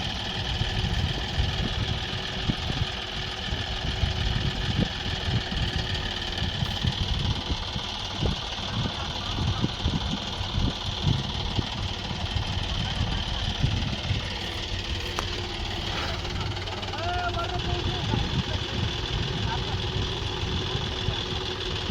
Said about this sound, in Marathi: हे बघा ट्रॅक्टर इथं लागणार आहे गाडी ओढायची आपल्याला आता